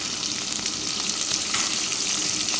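Shallots sizzle and fry loudly in a pan for a Tamil greens kootu, a dense continuous crackle close up, with no voices.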